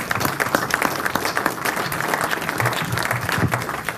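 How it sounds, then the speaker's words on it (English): A room full of people at an energy conference claps steadily for several seconds after a presentation, a dense, even patter of applause at moderate distance. "All right, round of applause"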